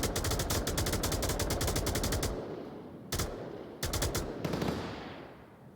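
Sustained automatic gunfire in the VR shooter game Onward during a competitive match, with long rapid bursts followed by a pause and two shorter volleys, loud and close with no talk over it.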